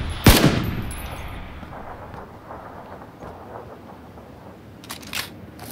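Gunfire in the battle-royale video game PUBG: one loud sharp shot near the start, then a faint rumbling tail and a few quieter distant shots near the end.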